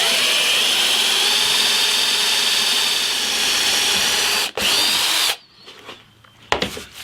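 A power drill bores holes through a metal hinge in a guitar build made from fence wood. It is a loud, close, continuous whine for about five seconds, with a brief dip, then it stops and a few light knocks follow.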